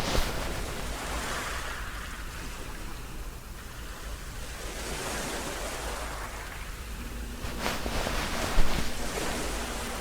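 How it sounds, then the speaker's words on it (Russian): Steady broadband rushing wash of surf, continuous and fairly even, with a brief louder swell near the end. "Алиса, шум прибоя."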